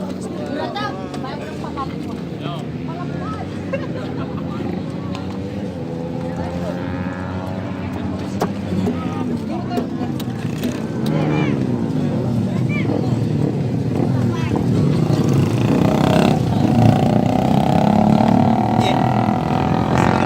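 A two-cylinder boat engine runs at the Sabang Maros harbour pier, a chugging throb growing louder and nearer over time while people chat continuously close by.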